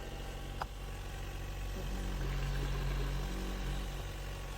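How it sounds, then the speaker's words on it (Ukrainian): An Opel Ampera/Volt engine idles steadily nearby, a low continuous hum with faint vibration and one short click near the start. "Робота двигуна."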